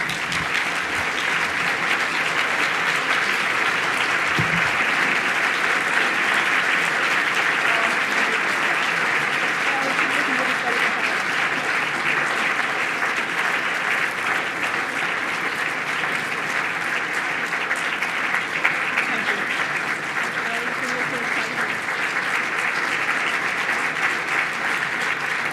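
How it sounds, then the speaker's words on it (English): Loud, sustained applause from a large audience fills the whole stretch, a dense steady wash of clapping with no pauses. "Please join me in thunderous applause as we welcome her to the stage."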